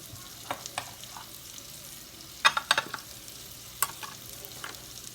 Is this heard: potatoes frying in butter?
yes